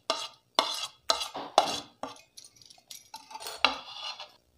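Spoon clinking and scraping in a bowl while mixing chopped onion, green chilli and coriander for golgappa filling, a series of close, sharp stirring strokes with short pauses, no talking.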